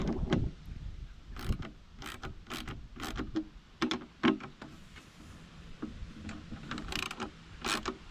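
Wrench working a 1/2-inch bolt on the fuel tank of a John Deere compact tractor, giving a string of sharp metallic clicks and ratcheting taps in uneven bursts, close by with no talk.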